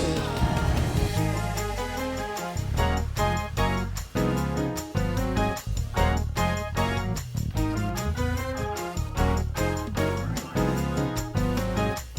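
A piano plays a lively instrumental passage of the gospel song Goodbye Yesterday, rhythmic chords and quick runs, full and continuous.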